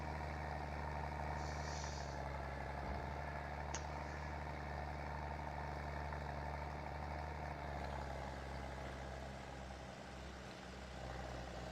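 An old tractor engine in the Farming Simulator 22 video game runs with a steady, droning idle and low rumble that continues evenly throughout with no talking.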